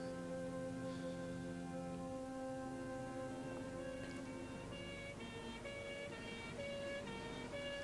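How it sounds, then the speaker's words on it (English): A passing ambulance siren in a street scene, its steady tones sliding and shifting pitch over continuous loud traffic noise. "Boys in blue. The ambulance."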